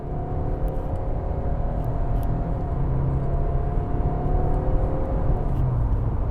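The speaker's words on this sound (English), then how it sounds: "So let's get on the highway. Let's see what the 2-liter 4-cylinder engine is made of." A 2023 Subaru Impreza Limited with a 2-liter four-cylinder engine accelerating onto a highway, heard from inside as a steady, fairly loud rumbling drone with a rising engine hum and no talk.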